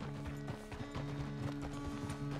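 Horse hooves clip-clop in a steady walking rhythm in the video game Red Dead Redemption 2, close and moderately quiet, with a low humming background beneath.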